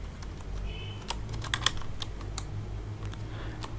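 Quiet, irregular clicks of keys on a computer keyboard as a word is typed into a code editor, a few quick taps clustered together over a low steady hum.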